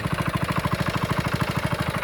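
A shallow tube-well pump engine drawing groundwater into a canal beside a wetland farm field chugs in a fast, steady, even rhythm, close and fairly loud, with no other sounds over it.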